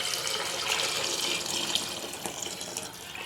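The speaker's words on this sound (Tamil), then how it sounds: "இதில் தண்ணி சேர்த்துக்க போகிறோம்." Water poured from a large metal vessel into a cooking pot, a steady close splashing stream running throughout with no talk.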